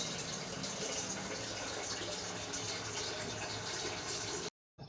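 Water drains out through the drain of a deep freezer, a steady, gushing rush that keeps going evenly for several seconds before cutting off abruptly near the end.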